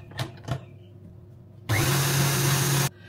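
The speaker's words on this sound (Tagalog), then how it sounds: "At i-mix natin ito by electric mixer." An electric hand or stand mixer whirs loudly for just over a second while mixing eclair dough, preceded by a couple of sharp knocks against the bowl.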